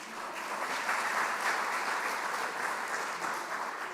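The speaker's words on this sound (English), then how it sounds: "we can clap for that" Steady, dense applause from an audience at a professional development day opening session fills the room for several seconds at an even level, with no talking over it.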